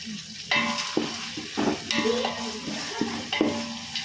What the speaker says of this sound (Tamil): உப்பு சேர்த்து நல்லா வதக்கலாம்